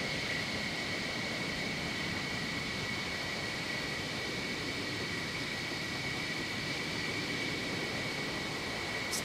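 Steady jet engine roar from an F-14 taxiing toward the runway in the DCS World video game, a constant hiss and whine holding level throughout, with no voices.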